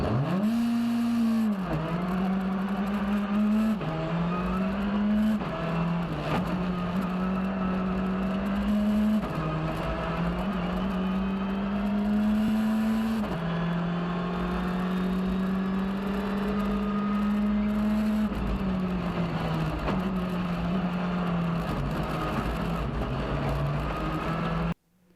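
Onboard a Hyundai i20 rally car at a national championship rally in deteriorating weather, the engine drones loudly and continuously close up, with repeated dips and surges as gears change and the revs climb again.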